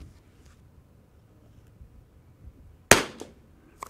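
A single sharp rimfire rifle shot from a Savage MKII Christensen Ranger 22, cracking loudly out of quiet outdoor background with a brief echo trailing after, with no one talking.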